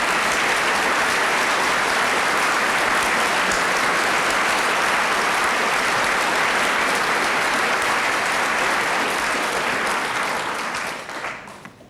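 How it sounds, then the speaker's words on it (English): A studio audience at a 1972 Mastermind final claps for a quiz contestant, a dense, sustained round of applause that fills the room and then tapers off near the end. "A sympathetic round of applause."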